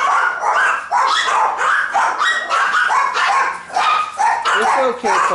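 Several dogs bark and yip excitedly in quick, overlapping bursts, loud and close, with whimpering mixed in.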